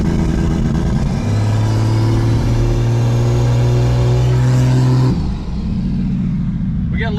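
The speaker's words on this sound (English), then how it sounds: "The Jeep is once again alive." A loud turbocharged Jeep engine idles at about 700 RPM and revs steadily close by, its droning pitch rising briefly before the rumble drops off and settles.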